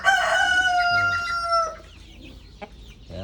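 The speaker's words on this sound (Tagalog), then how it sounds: "meron din po tayong yung itim na manok" A black-feathered rooster crows loudly and close by, one long strained call, followed by quieter clucking and scattered outdoor sounds.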